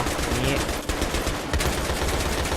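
Rapid bursts of Battlefield 3 gunfire crackle continuously, dense and loud, with brief gaps between volleys.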